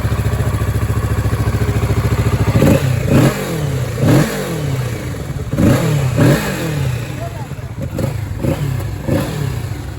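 A Kawasaki Z650 BS6 twin-cylinder motorcycle engine idling with a steady low burble, then blipped in a series of sharp throttle revs that rise and fall, loud and close.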